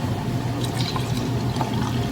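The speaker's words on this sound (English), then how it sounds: "I'm going to fill this up, and this is going to be 1." Rice water that has fermented for almost two weeks pours steadily into a container for garden use, a continuous close, fairly loud splashing gurgle with no talking.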